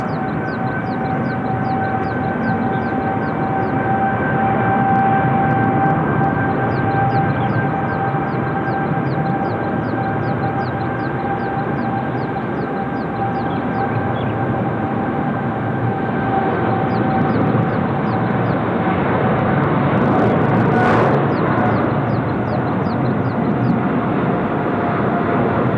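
A FedEx cargo jet taking off from runway 16 left at Seoul Incheon Airport, heard as a loud, steady engine roar with a sustained high whine, continuous and unbroken throughout, with no voices.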